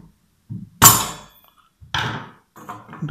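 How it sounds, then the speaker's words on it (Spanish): A hammer knocks the rear cover off an electric water pump, giving two or three sharp metallic strikes with short ringing tails, separated by brief pauses and heard close up without any talk. "con la ayuda de nuestro destornillador, cogemos un martillo y sacamos la parte de la tapa posterior"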